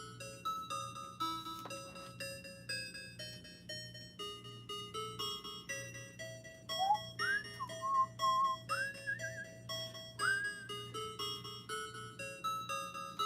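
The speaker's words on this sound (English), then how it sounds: "Sorry, I'm whistling a bunch." Someone whistles a wandering tune during a Pokemon card sale stream. The whistle is fairly clear and loud, with sliding notes over a steady low hum, and it is strongest near the end.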